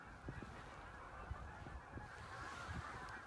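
Geese lift off from a field in a massive flock, honking faintly and at a distance over a dense wash of wingbeats and outdoor noise.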